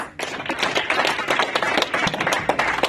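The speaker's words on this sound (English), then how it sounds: "let's give them a round of applause" Audience clapping after a call to honor honorees at a community event, a dense patter of claps filling nearly three seconds at moderate volume with a brief onset.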